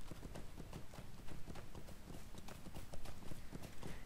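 Horse hooves clip-clop steadily at a brisk, even gait in Lord of the Rings Online, a close, continuous rhythm of hoofbeats over the whole stretch with no talk.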